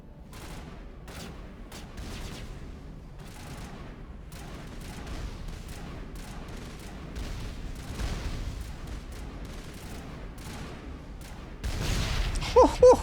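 Gunfire in Mass Effect Legendary Edition, a rapid run of sharp, fairly faint shots in bursts, with a louder burst of fire and impacts near the end.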